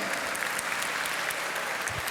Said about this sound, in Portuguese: Uma salva de palmas, parabéns.